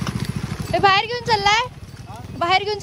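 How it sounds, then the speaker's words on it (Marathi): A mule, a horse-donkey cross, walks through a village in Sindhudurg, its hooves clip-clopping in a steady low rhythm beneath loud, close conversation from several people. "हे खेचर"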